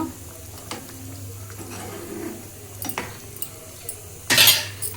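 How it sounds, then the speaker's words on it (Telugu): Paneer masala curry stirred in a pot with a utensil, soft scraping and clinks, then a sharp metallic clatter near the end as a lid is set on the pot, over a low steady hum. "మూత పెట్టేసుకుందాం"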